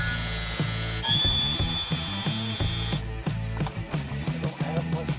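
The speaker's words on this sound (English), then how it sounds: "Just grind the tips off, and that heats it up." A power tool grinds the tips off old truck cab bolts during cab removal, a loud steady whine with a rhythmic mechanical chatter that breaks into choppier bursts partway through.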